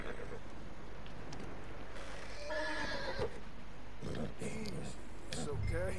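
A horse neighs and whinnies in Red Dead Redemption 2, with clip-clop hooves and game ambience; the horse call stands out midway over a steady background bed, and a voice talks around it.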